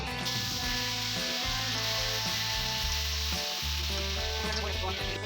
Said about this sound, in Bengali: তো মাছ ভাজে যে তেলটা আছে এই তেলটাতে আমি পটলগুলো ভেজে নেব